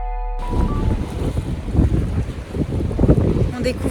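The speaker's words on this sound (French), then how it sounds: "il y a beaucoup de vent" Strong seaside wind at the Dune du Pilat, a steady broadband rush buffeting the microphone with gusty surges throughout, loud and close, after a brief quiet start.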